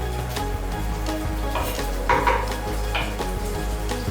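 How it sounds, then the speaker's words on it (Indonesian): Garlic sautéing in a frying pan for nasi goreng rendang, a steady soft sizzle with occasional scrapes and clinks of a utensil against the pan. "Sekarang kita tumis bawang putihnya."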